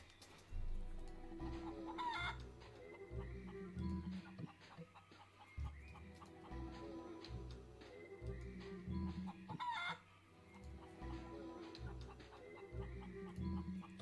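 Chickens cluck and a rooster crows in the video game Monkey Island 3, repeating calls over a looping game soundtrack, clear and fairly close.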